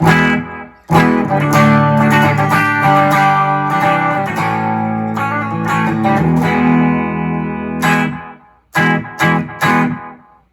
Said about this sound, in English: Joyo Aquarius pedal, the delay pedal, I can add a little bit of reverb and some extra bounce to the tone